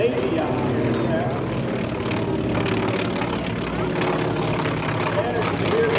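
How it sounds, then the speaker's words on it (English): A World War II BT-13 basic trainer with a 450-horsepower engine, seen among warbirds at an airshow, sends out a steady, loud engine drone that continues unbroken beneath ongoing commentary. "Two of them are the BT-13 basic trainer World War II, powered by a rapidly 450 horsepower engine"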